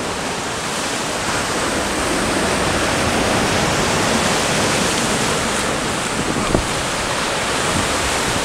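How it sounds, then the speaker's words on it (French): Ocean waves breaking on a beach during shore fishing for sea bass, a loud continuous broadband wash of surf with a windy roar, steady and unbroken with no speech. "Je vais passer les vagues, après je vais essayer."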